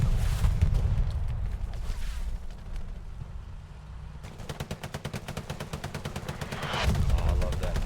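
Machine gun fire in a World War II-style video game match at Sainte-Mère-Église crackles in rapid, sustained bursts, with a dense chattering stretch near the end, mixed with game ambience and voices talking over it.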